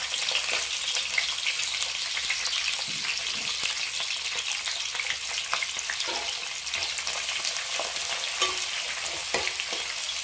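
Two large, thinly sliced onions fry in oil in a pan for mutton biryani, a continuous bright sizzle with frequent stirring scrapes and clicks, close and steady, with no voices.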